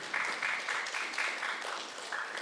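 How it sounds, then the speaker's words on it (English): Audience applause for guests and panelists at the close of a book talk, a steady wash of clapping hands from a crowd, sustained at even loudness throughout with no voices over it. "join me, round of applause for our guests and panelists"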